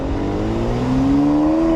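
Stock 2019 Mercedes C43 AMG accelerating hard in hot weather, a loud, close engine note climbing steadily in pitch with strong harmonic whine and no talking over it.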